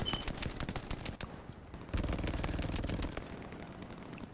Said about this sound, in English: There's a heavy machine gun.